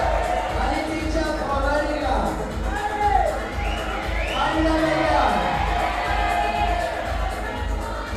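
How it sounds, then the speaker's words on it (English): A crowd at an international lead climbing competition cheers and shouts steadily for a climber on the wall, with voices and whoops rising and falling under ongoing commentary. "The crowd really getting behind him."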